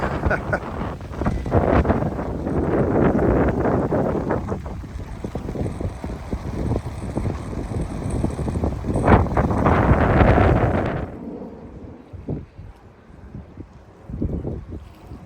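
Strong wind gusts buffeting the microphone on a path beside an estuary between Horrid Hill and Gillingham in Kent. The roar swells and surges for about eleven seconds, then drops to a quieter, intermittent rumble.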